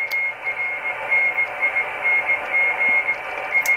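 Morse code tones come through a ham radio receiver as a steady stream of short and long beeps over a hissing background, with no voices.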